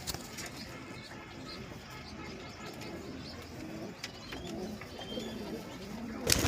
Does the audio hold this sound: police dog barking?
no